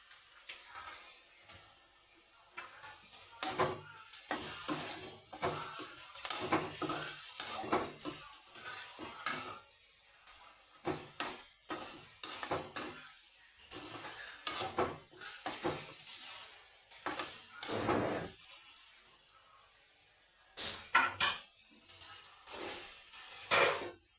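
Vegetables stir-fried with pepper powder in a pan give off a soft sizzle beneath repeated scraping and clattering of a utensil against metal, in bursts of stirring with short pauses.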